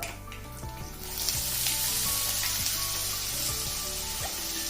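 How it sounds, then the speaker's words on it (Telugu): Ridge gourd pieces hit hot tempering oil in a pan and sizzle steadily and loudly at close range, with faint clinks and a brief rise as the pieces go in; no one speaks. "దోరగా వేగిన తాలింపులో ఈ పొట్లకాయ ముక్కల్ని వేద్దాం"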